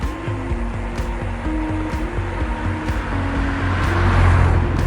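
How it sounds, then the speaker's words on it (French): Cars pass on a road at night along the banks of the Rhine, heard during a 200 km cycling brevet. A steady engine and tyre rumble swells gradually louder toward the end as a vehicle approaches, with no talking. "Quelques voitures"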